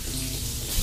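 Shower water running cold from the tap, a steady broadband rush of close spray that carries on evenly for under a second.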